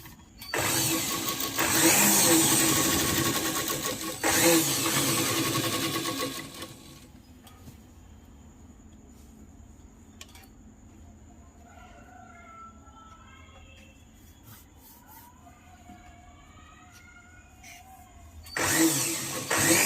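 A sewing machine stitches along the edge of a petticoat's fabric in two close, loud bursts, goes quiet for a long stretch with faint background sounds, then starts up again at the end.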